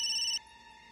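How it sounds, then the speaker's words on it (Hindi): A phone ringtone plays loudly for a short burst and then cuts off abruptly, leaving only a faint hum. "सर का फोन। उठा।"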